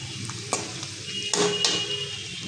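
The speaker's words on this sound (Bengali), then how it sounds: "ডিম ভেজে রাখছি আমি" Eggs frying in a pan, a low sizzle broken by several sharp clinks and scrapes of a utensil against the pan and no voices.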